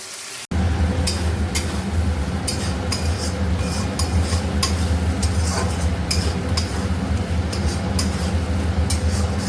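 Meat braising in a pan with ground spices, a steady loud sizzle under repeated clinks and scrapes of a utensil stirring against the pan, with no voices.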